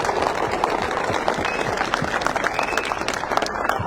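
A crowd applauds at a rainy-day rally in Oshakan, dense continuous clapping sustained throughout at moderate distance.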